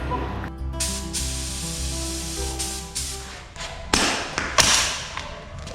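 A spray gun hisses steadily as lacquer goes onto a car panel, a broad continuous spray over a low machine hum, broken near the end by a few sharp knocks and taps.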